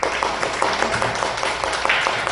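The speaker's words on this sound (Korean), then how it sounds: "자, 박수!" Brief clapping from a small audience at a talk presenting graduation projects, moderately loud and somewhat uneven, with individual claps audible through the short burst.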